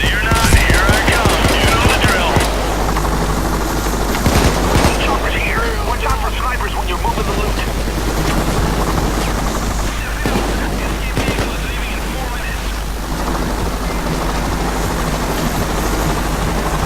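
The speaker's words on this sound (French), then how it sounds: "Alors où va se mettre l'hélico" Helicopter arriving during a heist in the video game PayDay 2, a steady loud rotor drone running throughout amid bursts of automatic gunfire, with talk over the top.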